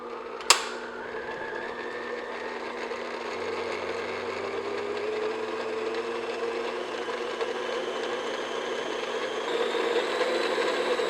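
An electric hand mixer beats carrot cupcake batter at slow speed, giving a steady, moderate motor hum with a soft whir that runs throughout after a brief click at the start.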